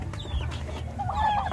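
Chickens clucking in a cage in short, busy bursts, fairly close, with a low steady background hum and no talking.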